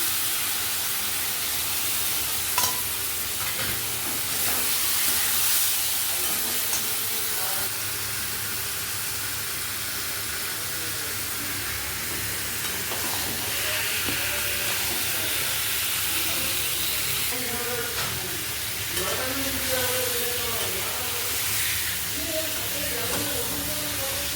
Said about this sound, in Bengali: এতে একটু গরম জল দিয়ে দিয়ে মশলাটা ভালো করে কষে নেব